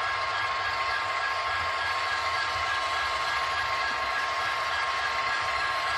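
A constant whirring, hissing rumble of a Santa Fe model hopper train running steadily, close and uniform throughout with no talking.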